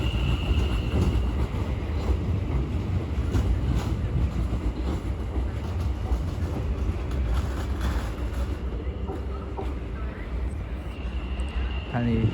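A train rumbles past at a London terminus on a non-stop service toward Wimbledon, a continuous low roar with faint clatter holding steady before easing slightly near the end.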